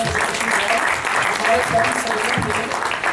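An audience at an international mushaira poetry gathering applauds a poet, a steady roll of many hands clapping with a voice talking over it throughout.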